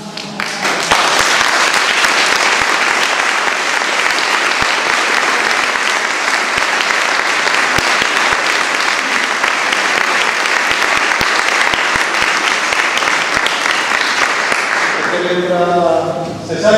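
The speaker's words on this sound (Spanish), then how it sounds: "demos un aplauso muy fuerte" Audience at a Christmas parranda event in Lomo Magullo, Telde, applauding in a loud, dense burst that holds steady for about fifteen seconds before cutting off, with a voice starting just at the end.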